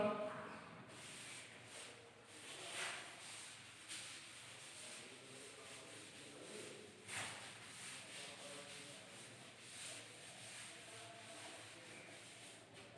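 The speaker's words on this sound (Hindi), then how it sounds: "चलिए मैं इसे रब करता हूं।" Writing rubbed off a classroom board, a steady soft scrubbing friction with gentle rhythmic strokes, faint and continuous for several seconds in a quiet room.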